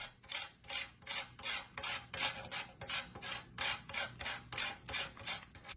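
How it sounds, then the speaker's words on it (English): A bar of laundry soap scrapes across the fine side of a grater in quick, even strokes, about two per second, close and quiet with no talking. "Take a grater with the finer side, and we're gonna grate a very small amount."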